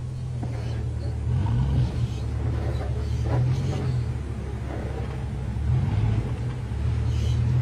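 A Land Rover crawls slowly over off-road obstacles, its engine giving a steady low rumble with slight rises in revs and no speech.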